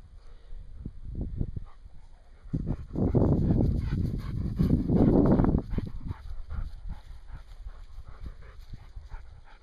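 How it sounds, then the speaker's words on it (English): A tired dog pants and whimpers close by on a forest trail in Croatan National Forest, a soft, steady breathing and shuffling that swells in the middle and then settles. "the tired dog is ready to go run back"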